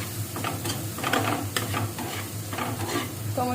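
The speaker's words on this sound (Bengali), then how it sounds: "টমেটোটাকে একটু ভালোভাবে সিদ্ধ করে নেব" Tomatoes cooking in a pan with salt and turmeric, a close sizzle with scraping spatula strokes stirring at irregular intervals, no voice.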